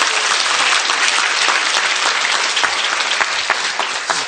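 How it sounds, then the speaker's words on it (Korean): Audience applause fills a seminar hall, dense steady clapping from many hands held at an even level for a few seconds with no voices over it. "이때 박수 한번 쳐주시면 돼요"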